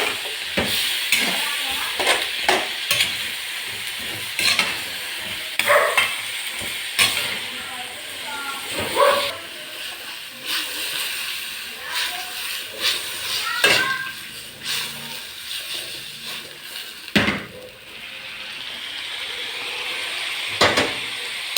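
Beef bones for caldereta fry in a pan, with a steady sizzle and hiss and repeated scraping and clanking as a spoon stirs them, at close range. A voice speaks faintly in the background.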